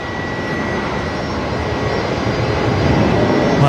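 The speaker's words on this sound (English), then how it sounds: "we got Qantas 541 here, departing now on runway 19 left" A Qantas jet airliner departing Brisbane Airport on runway 19 left at night, a steady broad engine roar that holds at a constant level and swells slightly toward the end, heard from a distance with no talk.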